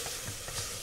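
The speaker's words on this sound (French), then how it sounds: "Notre poulet, qui lui va cuire tranquillement." Pieces of chicken sizzle and fry in a saucepan, a steady close crackling hiss with no talking over it.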